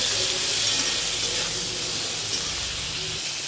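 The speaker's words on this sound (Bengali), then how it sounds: "তরকারিটা খুব ভালো করে ভেজে নেব।" Brinjal and pumpkin curry with turmeric and black cumin fries in a hot pan, giving a loud, steady sizzling hiss that holds without a break throughout.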